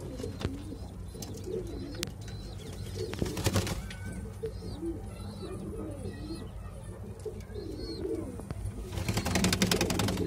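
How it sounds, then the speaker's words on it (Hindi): Yellow Madrasi pigeons coo in soft repeated phrases at close range, with bursts of wing flapping and light bird chirps around them. "ये देखिए पीला मद्रासी कबूतर है"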